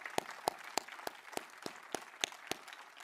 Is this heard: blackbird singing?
no